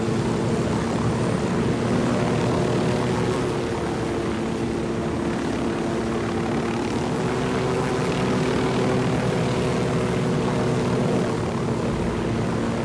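Aircraft flying in Ghost Recon Wildlands: a steady, droning engine roar with a sustained low hum, loud and unbroken throughout with no pauses.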